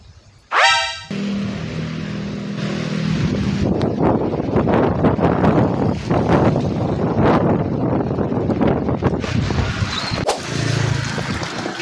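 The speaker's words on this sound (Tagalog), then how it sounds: "Malakas yung hangin." Strong wind roars and buffets the microphone in loud, continuous gusts at a small open-air market on a rainy day, after a brief high-pitched tone at the start.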